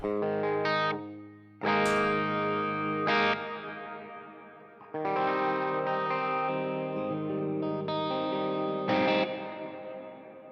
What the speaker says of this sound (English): Got a big reverb.